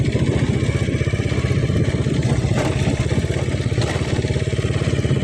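A motorcycle engine runs steadily while riding, with a close, loud, rapid rhythmic putter and some mechanical clatter throughout, and no talking.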